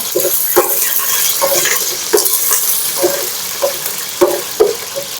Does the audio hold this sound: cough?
no